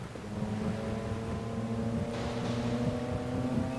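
A steady motorboat engine hums and drones continuously in the video game Transport Fever 2, close and even, with a faint hiss of rushing air or water.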